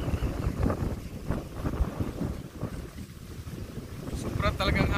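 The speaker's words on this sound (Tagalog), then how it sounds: "Sobra talagang hangin" Strong wind buffets the microphone by the water on a Japan fishing outing, a loud continuous rumbling roar with gusts and faint water sounds beneath.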